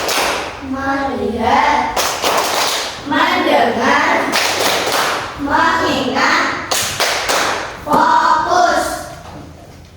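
A class of fourth-grade pupils performs a rhythmic focus clapping chant, bursts of sharp clapping alternating with children's chanted voices in a steady repeating pattern, loud and close throughout.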